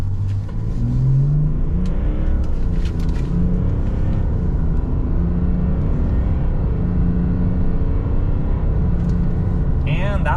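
A 2023 Chevrolet Silverado RST truck with the 3.0 Duramax LZ0 diesel accelerates hard from 0 to 60 at about 4,000 feet elevation, a steady rising engine drone heard from inside the cab with some talk over it.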